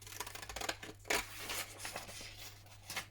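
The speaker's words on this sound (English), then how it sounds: "So let's cut this out." Scissors cut paper for a handmade card, making a quiet run of short snipping and rustling strokes close by, with no talking.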